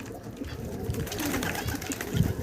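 Pigeons or doves coo softly in a hot outdoor setting, low murmuring calls repeating over a faint, steady background without speech.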